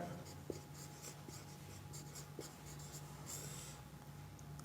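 A pen scratches faintly across paper in short strokes during a lesson, quiet and close against low background hiss, with occasional soft speech.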